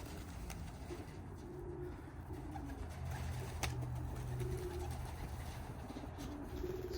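Young pigeons in a loft cooing in soft, low repeated calls over a quiet room background, several birds murmuring at moderate distance with no talking.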